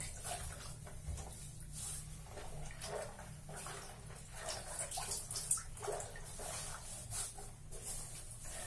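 Water sloshes and splashes in a tub as a wetsuit with added shampoo is washed and stirred by hand, quiet irregular swishes and drips close to the microphone.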